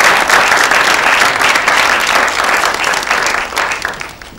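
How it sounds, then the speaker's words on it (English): A talk-show studio audience claps loudly for a guest, a steady, dense burst of applause close up that tapers off near the end. "a round of applause for him"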